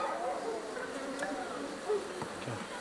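Honey bees buzzing from an open hive in winter, a dense, steady droning hum close by with a few louder individual bees passing near.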